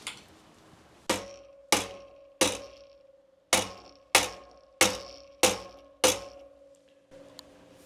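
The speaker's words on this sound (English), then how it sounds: "Our trusty mallet." A mallet taps a new mountain bike crankset onto a gravel bike, giving eight sharp, ringing metallic knocks in an uneven rhythm, each decaying quickly, heard up close with no talk.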